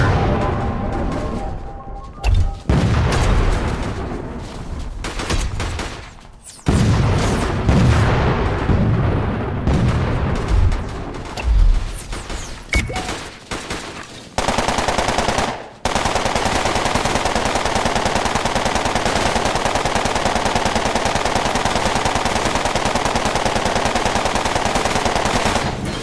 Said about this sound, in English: Alright, we gotta provide these guys some cover fire.